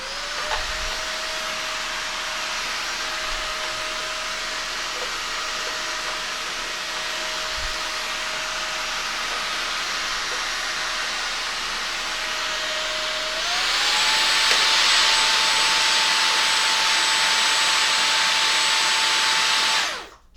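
Levoit LVAC-300 cordless pet vacuum cleaner with HEPA filter whines steadily nearby, then its motor ramps up to a louder, higher turbo pitch before cutting off abruptly at the end.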